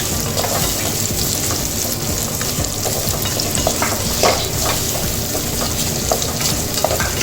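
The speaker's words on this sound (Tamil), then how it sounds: "நல்லா வதக்கி விட்டுக்குவோம்." Small onions, about a cup of shallots, sizzle steadily in a hot pan while being stirred, a dense continuous frying hiss with scattered scrapes and pops, close and fairly loud.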